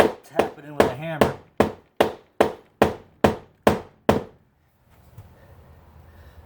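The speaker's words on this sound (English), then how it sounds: "tap it in with a hammer." Hammer taps driving a metal anchor into a tight spot in a damaged wooden door jamb: about a dozen sharp, close, evenly spaced knocks that slow slightly toward the end, then quiet room tone.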